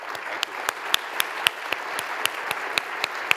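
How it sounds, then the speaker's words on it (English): A conference audience applauds a panelist, a steady bed of clapping broken by sharp, close individual claps at a regular pace, with no voices over it. "Big round of applause for Sean King."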